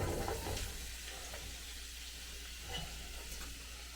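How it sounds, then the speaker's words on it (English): Vegetables sizzling with garlic in a hot pan, a steady dense crackle and hiss with occasional stirring knocks, close and even throughout, with no talking. "Then we're going to throw in our vegetables"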